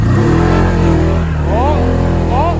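A 2019 Honda Talon 1000R UTV engine revs loud and close while doing donuts, a steady roar with rising pitch sweeps as the throttle is worked.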